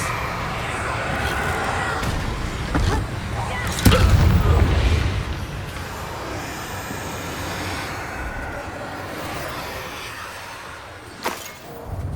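Confringo blasting spells firing in Hogwarts Legacy, with a heavy explosive burst about a third of the way in and a sharper crack near the end over a rumbling game soundscape, with a voice speaking over it.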